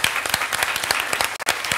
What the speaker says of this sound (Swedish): så kan ni ge en applåd till